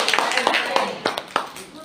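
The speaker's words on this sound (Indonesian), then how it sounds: "Tepuk tangan dulu dong buat narasumber kita yang pertama." An audience at an Indonesian teachers' learning-community event clapping for the first guest speaker, scattered individual claps with a few sharper hits, close and brief, with speech mixed in.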